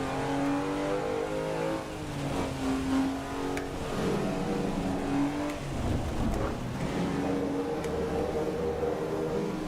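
A race car's engine in Assetto Corsa EVO wails steadily and close, its pitch rising and dipping as the throttle is blipped through gear changes. No voices are heard.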